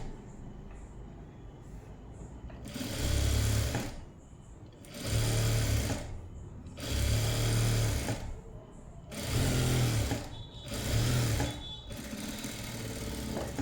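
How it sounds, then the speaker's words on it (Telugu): A sewing machine stitches cloth in five loud bursts of rapid mechanical whirring, each lasting about a second or two, separated by short quiet pauses. "ఇప్పుడు చూడండి దీని మీదనే ఒక కుట్టు అయితే వేద్దాం ఇలాగా"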